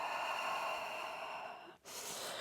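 A soft, breathy exhale during a gentle Pilates exercise, a faint airy rush that fades and cuts off before a quieter breath follows, close and alone.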